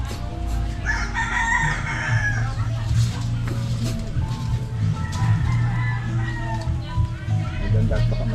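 A rooster crows nearby amid clucking chickens, while people talk over the farmyard sounds.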